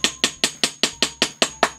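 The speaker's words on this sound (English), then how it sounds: "You're going to have to hammer that through there." Nine sharp hammer blows strike a nail through a hole at a steady, even pace, each hit loud and close with a quick ringing decay.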